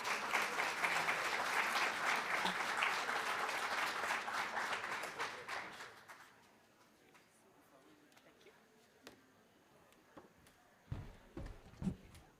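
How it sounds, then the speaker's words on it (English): A conference audience applauds as the Chancellor is welcomed to the stage, loud continuous clapping for about six seconds that then fades to a quiet room with a few scattered thumps and faint voices. "Let's give them a round of applause."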